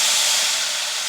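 A steady, loud hiss of vegetables sizzling in a pan over high heat, continuous and close, with no talking.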